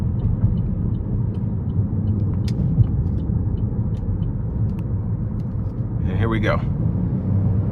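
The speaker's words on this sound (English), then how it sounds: "I'm gonna put my foot down just to see how well it accelerates" A 2012 Buick LaCrosse with the 3.6L engine accelerating hard onto an interstate, a steady low engine and road rumble from inside the cabin building under a driver's voice.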